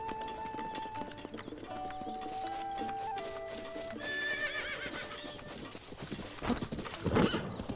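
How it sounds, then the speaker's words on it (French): A horse in The Legend of Zelda: Breath of the Wild whinnies loudly, with steady hoof clip-clops and game sounds layered over the scene, ending in a burst of louder activity. "Viens là mon cheval."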